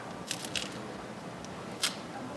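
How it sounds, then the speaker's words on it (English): A few sharp, brief crunches from biting into a crispy homemade shell that has cooled, separated by quiet pauses, close and clear with no talking. "Look at how crunchy this is now that it's cooled for a second."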